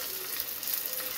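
Food frying in oil inside a clay pot, a steady, dense hiss and sizzle that stays close and even throughout, with no talking.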